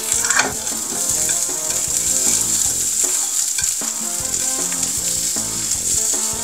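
Japanese bamboo shoots (takenoko) and shrimp sauté together in a pan with a loud, continuous sizzle and occasional stirring scrapes, over soft background music.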